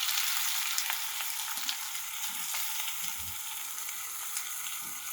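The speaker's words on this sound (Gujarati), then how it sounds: "હળદરને ઘીમાં શેકવાની છે." Chopped fresh turmeric fries in ghee in a heavy pan over low heat, giving a steady, close, continuous sizzle with faint stirring scrapes throughout and no voices.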